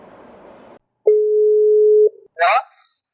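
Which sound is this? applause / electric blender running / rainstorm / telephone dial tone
telephone dial tone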